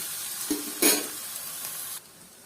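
Oothappam, flipped and browned golden on a hot pan, gives a steady soft sizzle for about two seconds with a brief louder crackle near the start, then goes quiet.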